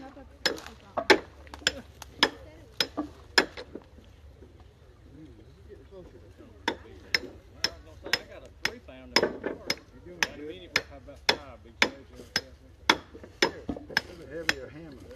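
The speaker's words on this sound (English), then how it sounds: "Heavier hammer." Repeated heavy sledgehammer strikes on the ground while digging on a plateau, sharp thuds in a fairly regular rhythm with short pauses, under ongoing talk from people nearby.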